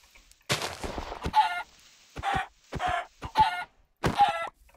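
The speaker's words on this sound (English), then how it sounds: "Oh, chickens. Hey, how's it going, chickens?" Chickens in the Minecraft video game cluck in a series of short, loud bursts spaced a second or so apart, clear and close, with no talking over them.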